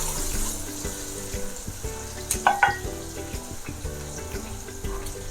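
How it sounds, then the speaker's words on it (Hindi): Onion sizzles and fries in hot oil with cumin and garam masala, a steady close crackle with brief clinks of stirring midway. "अब मैं इसमें प्याज ऐड कर दूंगी। प्याज को हम अच्छे से फ्राई करेंगे।"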